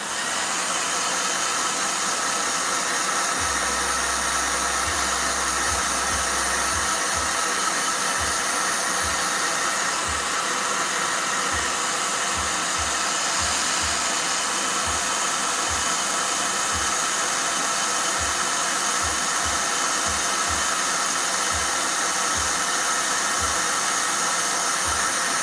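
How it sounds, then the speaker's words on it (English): A hair dryer runs steadily through the whole stretch with a loud, constant airy roar, while low thumps tap irregularly underneath from the middle onward. "Nice. Blow dryer."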